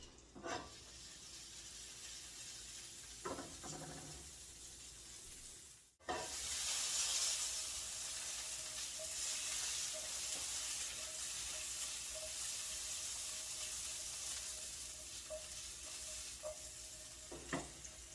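Potato croquettes fry in a pan with a steady, close sizzle and hiss that runs throughout, broken by a few soft knocks and clicks early on, with no talking.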